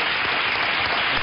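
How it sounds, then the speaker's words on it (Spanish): Studio audience applause on a Spanish talk show, a steady dense wash of clapping with no voices over it, lasting the whole moment at even loudness. "un aplauso ahí"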